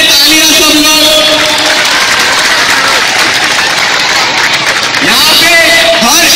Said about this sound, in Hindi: so first of all sports teachers के लिए तालियां सब लोग